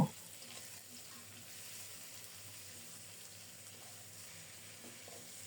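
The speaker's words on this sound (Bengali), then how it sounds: "কিছুক্ষণ নেড়ে চেড়ে আলুগুলোকে এফিট ওফিট করে ভেজে নেব" Potatoes frying quietly in a pan after being salted, a faint, steady, even sizzle heard close with no talking and hardly any stirring noise.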